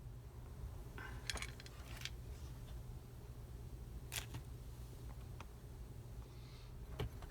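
Small carburetor needles for an Edelbrock 1406 are dropped into place during a rebuild, making a few faint, light metallic clinks scattered over a quiet background hiss.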